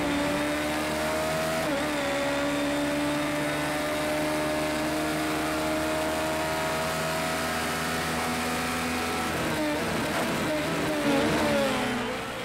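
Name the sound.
race car driving out lap in video game Project CARS 2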